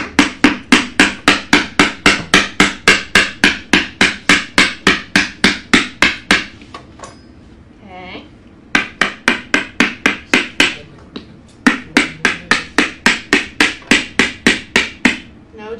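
Rapid, steady hammer blows on a pumpkin in long runs, each a sharp close knock, pausing twice briefly before the pounding resumes; no talking.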